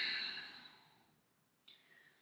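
A single breathy exhale during yoga practice fades over about a second, followed by a short, softer breath, close and quiet with no talking.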